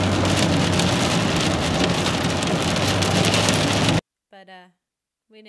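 Heavy rain drums steadily on a car while it is being driven, a dense continuous hiss that cuts off abruptly, followed by a few short spoken words in near silence.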